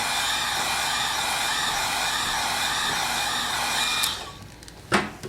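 A hair dryer blows steadily and loudly for about four seconds while drying touch-up dye on a leather jacket, then cuts off, followed by a couple of brief handling bumps.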